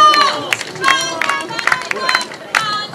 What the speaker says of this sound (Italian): gli applausi a questi atleti